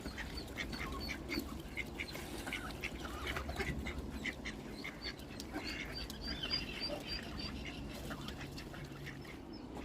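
Ducks and ducklings quack and peep beside the River Thames, with repeated short calls over steady outdoor background noise and geese close by.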